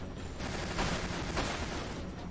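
Dense, continuous gunfire from Dirge of Cerberus: Final Fantasy VII on PS2 rattles as a steady wash of rapid shots with a few stronger bursts, fairly faint and distant-sounding.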